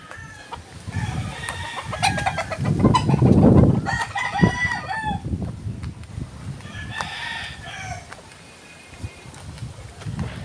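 Young gamecock (stag) crowing among other fowl, with a loud crow in the middle, scattered clucks and further crowing, nearby on a farm, no talk.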